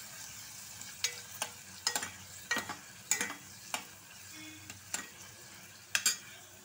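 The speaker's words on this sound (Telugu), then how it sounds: "ఇందులో అయితే ఉల్లిపాయలు అవి వేసి వేయించేసుకోవాలి దోరగా" Chopped onions frying in oil in a pan for pav bhaji, a soft continuous sizzle broken by regular scraping stirs of a spoon roughly every second, close and alone without talk.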